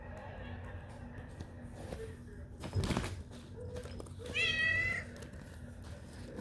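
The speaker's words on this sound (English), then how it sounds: "That was my cat." A house cat gives a single drawn-out, rising meow at close range, standing out briefly over a faint indoor background.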